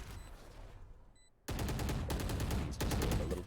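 Dense burst of pistol gunfire from the Ghost sidearm in a Valorant competitive match, a quieter lead-in followed by loud, closely spaced rapid shots that fill the rest of the moment.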